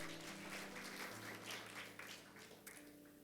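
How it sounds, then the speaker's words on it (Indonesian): Church congregation applauding during a Sunday service, steady crowd clapping heard faintly against a sustained music tone and room hum. "Kasih tepuk tangan buat Tuhan."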